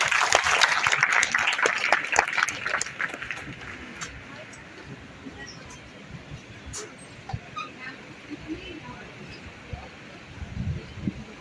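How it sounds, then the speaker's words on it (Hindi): An audience applauds at a press club book launch in Jaipur, with a burst of loud clapping that fades into scattered claps and murmuring, and a voice speaks over it. "वंस अगेन तालियों की अगर एक्शन रिप्ले हो जाए, जोरदार तालियां हो जाए"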